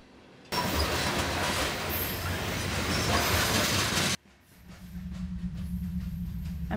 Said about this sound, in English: I'm on the train tracks.